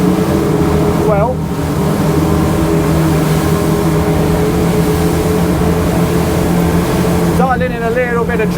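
Wellcraft 38 T-Top motorboat with triple engines accelerating, a loud continuous roaring drone with rising whining engine tones near the start and again toward the end, heavy and close throughout.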